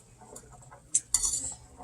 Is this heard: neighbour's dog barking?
no